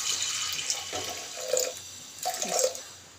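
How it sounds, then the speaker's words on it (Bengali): Water poured over lentils in a pressure cooker, a short splashing, gurgling stream in two brief bursts, close and fairly soft. "এইবার দেব পরিমাণ মতো জল"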